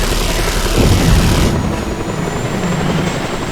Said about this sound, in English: Did I shoot down the helicopter and it crashed into something?